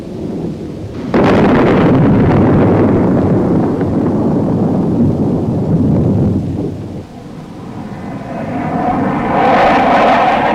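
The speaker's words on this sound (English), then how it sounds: "105 also delivers its punch on enemy targets by dive bombing" An F-105 jet aircraft dive bombing: a loud, broad roar that surges in after a second, holds, dips briefly, then builds again with a rising whine near the end.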